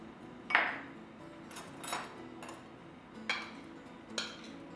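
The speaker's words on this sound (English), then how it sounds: "I'm going to mix all this together before I mix it into my wet ingredients" Dry oats, whole wheat flour, salt and baking soda being stirred together in a bowl for bean cookies, with a handful of separate clinks of utensil against dish spread across a quiet background.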